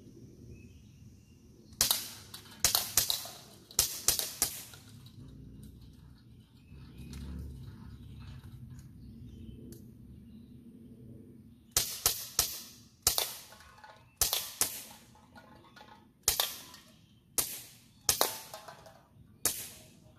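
A Gamo MP9 air pistol fires repeatedly, each shot a sharp, close crack; a few shots come early, then after a pause a rapid series of about eight evenly spaced shots follows.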